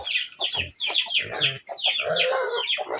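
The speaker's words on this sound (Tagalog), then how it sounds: "Yung mga manok, oh, ayaw pa bumaba." Several chickens clucking and squawking close by, busy overlapping calls in quick succession.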